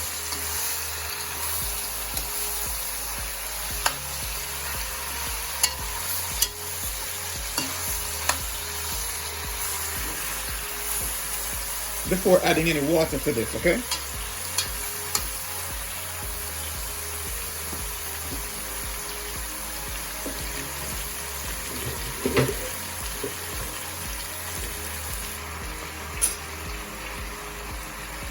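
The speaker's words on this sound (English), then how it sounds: "we're gonna allow this to sear for a little while." Steady sizzle of oxtail searing in a hot pot, a constant crackling hiss with occasional pops and a brief stirring clatter; a voice speaks once.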